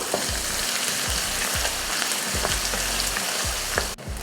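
Steady, loud sizzling of two large onions sautéing in a pan, with repeated stirring scrapes throughout and no talking.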